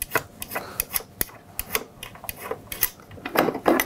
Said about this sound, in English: It consists of removing these two thumb screws on the front panel.